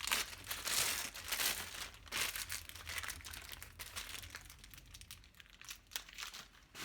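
Paper wrapping is pulled off a package and crinkled, close-up, with irregular bursts of crackling, rustling and light tearing across several seconds and no voices.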